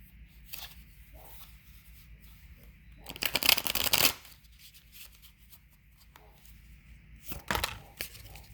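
Tarot cards being shuffled by hand, with a dense crisp riffle burst in the middle and a shorter one near the end, separated by quiet soft handling; no talking.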